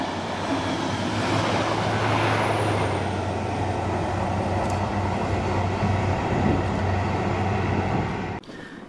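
A diesel test train with two ex-East Midlands and LNER class 43 HST power cars rumbles past on a Mossend circuit in Scotland, a loud, sustained engine roar and wheel noise that holds steady before cutting off abruptly near the end.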